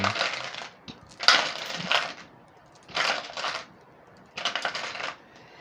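Small polished gemstones, including green aventurine, clatter and clink in four separate bursts as ten are picked from a pile, with quiet pauses in between and no talking.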